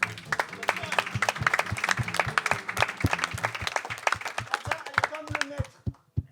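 Audience applause at a cultural gathering in Occitanie, sparse and uneven, with individual claps standing out clearly and a voice heard over them, fading out near the end.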